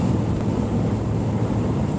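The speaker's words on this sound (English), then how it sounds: "you guys hear that wind?" Strong wind outside during a road trip, a steady low roar buffeting the microphone without letup, loud and close, with no other sounds standing out.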